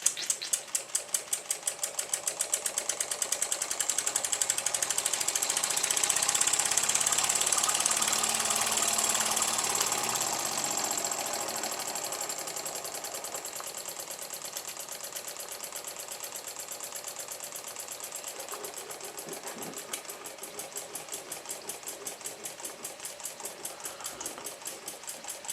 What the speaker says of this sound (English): let you listen to the sound of the engine running